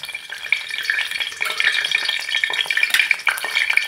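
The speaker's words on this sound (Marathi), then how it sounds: "तेल आपलं चांगलं तापला म्हणून फोडणी घालून घेऊया." Whole spices with bay leaf go into hot oil for a village chicken curry tempering and crackle and sizzle close by, with a busy bright hiss punctuated by sharp pops and rising in intensity, with no talking.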